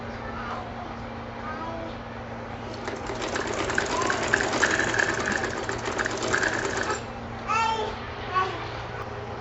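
Domestic sewing machine stitching a fabric strip, a steady whirring run of several seconds in the middle, with someone speaking before and after and brief chirps in the background.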